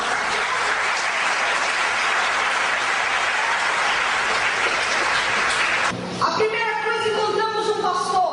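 A church congregation applauds loudly and steadily, a dense wash of clapping that continues as a voice and music rise over it near the end.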